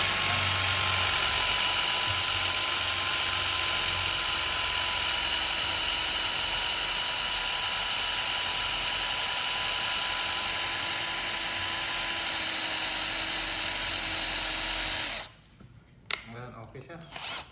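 A cheap electric hand drill bought online is test-run while drilling, giving a loud, steady high-pitched whine that holds for about fifteen seconds before cutting off abruptly, followed by a few short clicks and bumps.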